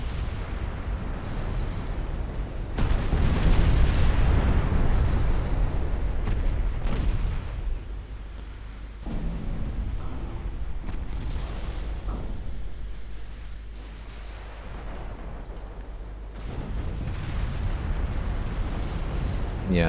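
Torpedoes strike warships in a naval strategy game, setting off loud rolling explosions with deep sustained rumble, a heavy burst near the start and further booms rising and fading over about twenty seconds, with a voice talking over parts.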